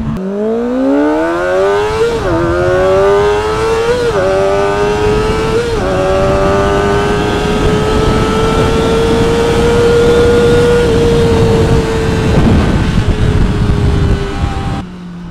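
Kawasaki ZX-25R or Yamaha MT-09 motorcycle ridden on a leisure ride, engine note rising and holding steady with brief dips at gear changes, loud and continuous throughout.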